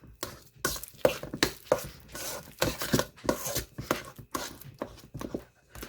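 A spoon mashes ripe bananas in a bowl for banana nut muffins, soft squishing and scraping strokes in irregular bursts, quiet and close with no voices.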